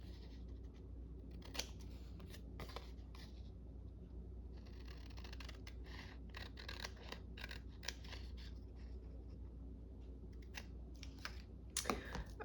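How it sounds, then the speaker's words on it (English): Scissors snip through baking material in a kitchen, a scattered run of crisp cuts at close range over steady low background hum, with a few sharper snips near the end. "Let's cut it."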